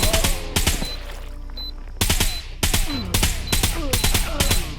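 Repeated bursts of automatic gunfire in the zombie jungle shooter Jungle Rot, sharp close shots in several clusters with brief pauses between them.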